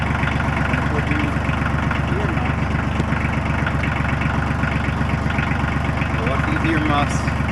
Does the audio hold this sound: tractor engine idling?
yes